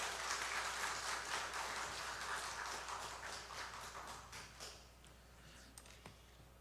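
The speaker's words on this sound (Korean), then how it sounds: "여러분 박수로 한번 다시 한번 해주시기" A church congregation at a Sunday service applauds a missionary with dense, continuous clapping that fills the hall, then thins and fades away over the last couple of seconds.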